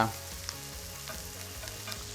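Onions sizzle gently in butter in a pan while beef Wellington is being made, a soft steady frying hiss with faint stirring clicks and a low background hum, no talking.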